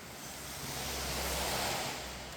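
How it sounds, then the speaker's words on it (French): Heavy rain pouring down in a steady, dense broadband roar while someone cooks outdoors on a bike tour headed to the Alps, no talk, the rush swelling slightly through the middle. "Il pleut super fort."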